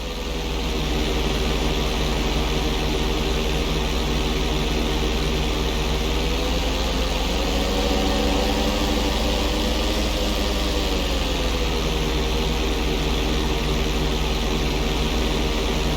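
A stunt plane's propeller engine in GTA V during a flight lesson roll manoeuvre drones loud and steady throughout, its pitch dipping and rising briefly midway as the plane rolls over, with no talk.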